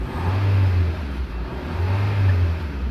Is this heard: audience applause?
no